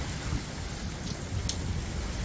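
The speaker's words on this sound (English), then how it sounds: "a very, very rainy and very windy Falmouth Bay in Antigua" Steady rain with low gusts of wind buffeting close by in Falmouth Bay, Antigua, a continuous rough wash of noise with no voices.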